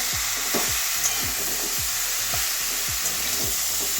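Potatoes and a hilsa fish head fry in a pan for a Malabar spinach dish, a loud continuous sizzle marked by a steady rhythm of spatula scraping strokes roughly every half second.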